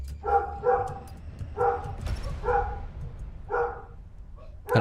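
A dog barks loudly in repeated short bursts, several quick barks at a time with pauses between, close by and standing out over a low room rumble, while a streamer comments during a competitive match.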